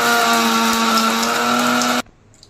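A mixer grinder whirs loudly and steadily as it blends cooled, roasted masala into a fine paste for Chettinad chicken curry, then abruptly cuts off into near silence.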